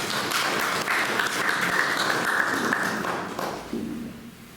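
An audience at a poetry and song evening in Ossi applauds after a love poem is recited, a sustained round of clapping that gradually thins and fades toward the end.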